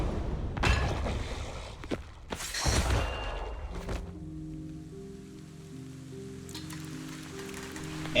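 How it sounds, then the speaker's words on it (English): Steady rain hisses down in the video game Zenless Zone Zero, dense and broadband for a few seconds before giving way to soft sustained musical tones. "And it rains."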